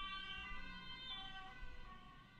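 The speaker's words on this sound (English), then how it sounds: "The ambulance is picking me up already." An ambulance siren wails faintly in the background, a steady distant tonal howl held throughout.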